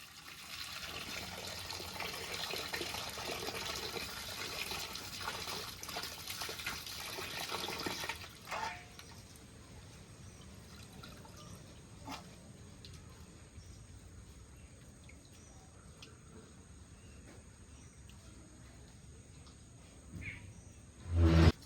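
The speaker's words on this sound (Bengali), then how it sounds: "এবার মাছগুলো ভালো করে ধুয়ে নেব" Small river fish are rinsed in water, giving a steady splashing, running-water wash for several seconds, then a quieter stretch with occasional drips and knocks and a sharp clatter at the end.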